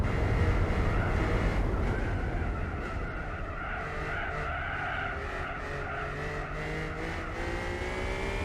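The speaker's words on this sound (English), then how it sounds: "I suddenly started fishtailing" Tires squeal as a race car in Gran Turismo 4 fishtails under braking, a continuous skidding screech over steady engine roar for several seconds, loud and close throughout.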